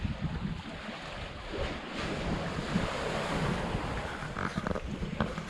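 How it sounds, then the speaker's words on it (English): Ocean water washing and lapping around a boat at sea, a steady broadband wash with wind buffeting the microphone, no voices. "Listen to the sound of the water."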